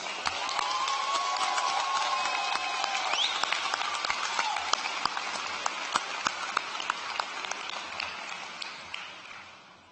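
Audience applause at a 2018 high school graduation ceremony, a steady dense clapping that holds for the full stretch and thins slightly toward the end, with some sharper individual claps standing out.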